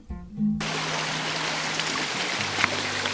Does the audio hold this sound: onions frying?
no